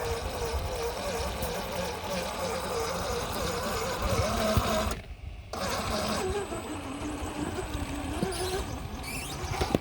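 A 1/5 scale RC crawler with a 997 brushed motor on 36 volts creeps along in low gear, its steady electric whine and gear drone running close and continuous, dropping out briefly midway before resuming.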